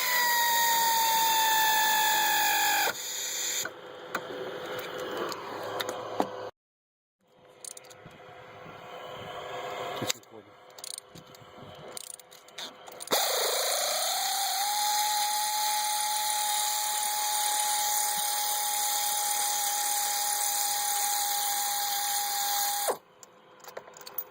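A power tool whirs steadily while tightening a spark plug on a BMW M54 engine, loud and close, with a brief pause, bursts of clicking and a long sustained high whine afterward.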